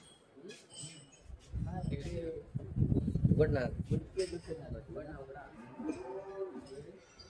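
A cow moos loudly nearby in a drawn-out call at a gaushala in Sindhudurg, with people talking around it and faint background noise.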